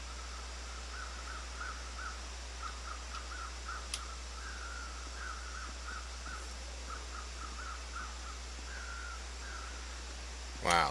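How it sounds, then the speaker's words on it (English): Crows caw repeatedly in The Long Dark, a survival video game, in a wintry crumbling highway area; the calls are fairly faint and distant, coming in irregular short bursts over a steady windy ambient hiss. "Here's some more crows."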